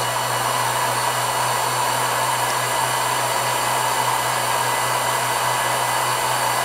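Honey extractor machine spinning slowly at the start of a harvest, giving a steady, continuous whirring drone with a low hum that holds even throughout, with no voices.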